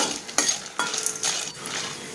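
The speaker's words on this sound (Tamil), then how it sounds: "இது மாதிரி வெடிக்கிற சத்தம் கேட்கும்" A few sharp crackles and pops of black peppercorns over a soft hiss of hot oil, close by and fairly quiet, spaced unevenly over two seconds.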